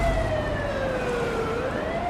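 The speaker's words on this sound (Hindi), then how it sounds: "लहरों की आवाज के साथ लोगों की चहल पहल में एक सायरन की आवाज भी आ रही थी।" A wailing siren sweeps slowly in pitch at a seaside spot where the tide has pulled far out, sounding steady and fairly distant over a constant wash of waves and crowd bustle.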